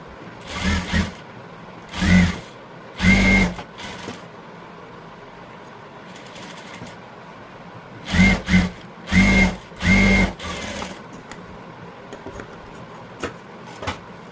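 A domestic sewing machine stitching a blouse, running in short bursts of a few seconds each, two early runs and three later ones, separated by quiet pauses.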